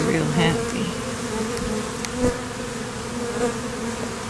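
A swarm of bees clustered in a tree buzzes all around close by, a dense continuous hum with individual insects droning past the microphone.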